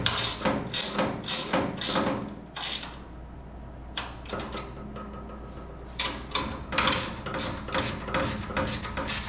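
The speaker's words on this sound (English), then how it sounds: "Go ahead and tighten those up with your wrenches." Wrenches tighten bolts on a beach cart lift kit, making close, repeated metallic clicking and ratcheting strokes in bursts, separated by a brief quieter pause, with no talking.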